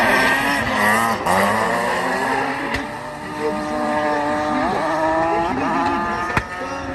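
Drift car at the Bordeaux Mérignac circuit during a French drift championship: a loud, revving engine with rising and falling pitch sweeps, repeated throttle bursts and sharp pops, sustained and close throughout.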